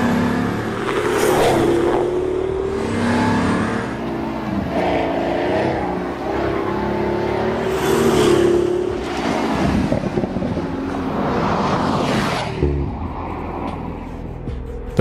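A Pagani Huayra sports car drives past and accelerates, its loud engine rising and falling in pitch through repeated revving surges, mixed with wind rush.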